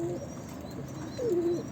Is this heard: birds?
yes